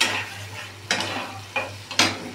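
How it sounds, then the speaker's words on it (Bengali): Pointed gourd fries in a pan under a constant low sizzle, broken by three or four quick, scraping stirs of a spatula against the metal, close and distinct. "ভালো করে ভাজা ভাজা করতে হবে।"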